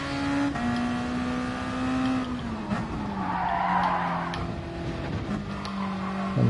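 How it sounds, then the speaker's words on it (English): Tyres squeal and skid as a race car slides through a corner in Gran Turismo Sport, a sustained screech over a steady engine drone, loud and close with no talking. "This car is very sliding."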